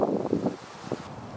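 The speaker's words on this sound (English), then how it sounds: "It's pretty windy outside right now." Strong wind blowing outdoors around a worm container where leaves have piled up, a steady broadband rush with louder gusts in the first half that ease into a lower, even whoosh.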